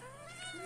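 A single short meow from a cat on a small farm, close and clear with a rising, wavering tone and no talk over it.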